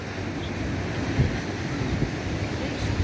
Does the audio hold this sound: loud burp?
no